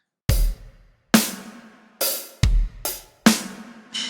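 Beginner-level drum groove on an acoustic kit, with an offset kick and an offset snare: six punchy hits in a syncopated rhythm, each ringing out briefly, played alone and close with no voices.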